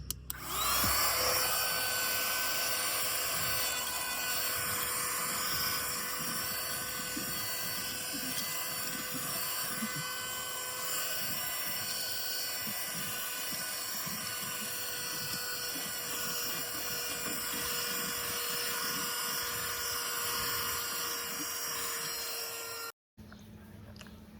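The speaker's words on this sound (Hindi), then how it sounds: "और ये रहा वो वैक्यूम क्लीनर जो हम कल लाए थे, और इसको टेस्ट करके दिखाता हूँ मैं आपको।" A vacuum cleaner is switched on for a test and runs as a loud, steady whine with a constant motor hum for over twenty seconds, then cuts off abruptly near the end.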